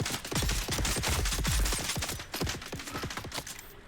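Rapid automatic gunfire rattles almost without pause through a firefight in Dune: Awakening, loud and close, thinning into scattered shots near the end.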